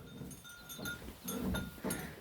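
Ewes being given a small morning feed on a farm, several bleats rising at intervals over a low shuffling, rustling background, fairly close and moderately loud, with no talking.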